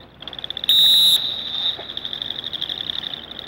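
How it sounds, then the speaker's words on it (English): Shrill handler's whistle blasts at a retriever field trial, one long loud steady blast standing out over faint outdoor background. "Whistle after whistle, and you can see that point total climb."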